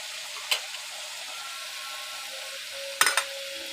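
Fish head dropped into taro greens frying in a pan: a steady sizzle runs throughout, broken by two brief clattering stirs, one early and a louder double knock near the end.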